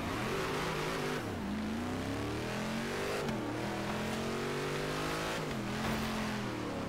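Nissan GT-R engine in Forza Horizon 3 revs hard through repeated gear changes, a loud, continuous roar climbing in pitch and dropping at each shift, close and steady throughout.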